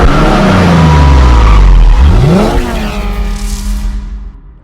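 A Gumpert Apollo hypercar at COTA during the Superlap Battle roars loudly close by, its engine note climbing and then dropping sharply as it sweeps past, fading into the distance.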